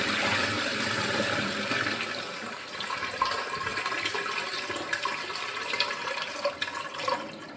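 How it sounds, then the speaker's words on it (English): Automatic flush of an AK68 European-style square smart bidet toilet: a steady rushing of water through the bowl, loud at first, then settling into a softer gurgling refill with small splashes. "Automatic flushing when enabled, automatically flushes the toilet."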